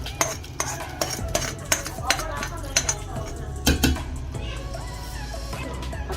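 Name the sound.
stirring tempering into beetroot pachadi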